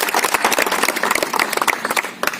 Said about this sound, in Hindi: उनके लिए एक बार आप तालियों से उनका स्वागत करते हैं